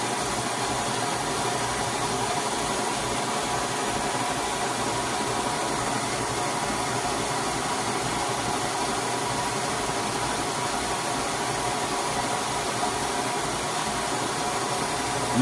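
Canister torch flame roaring steadily while heating rusty bolts on a catalytic converter exhaust pipe, a constant loud close hiss with no breaks and no talking.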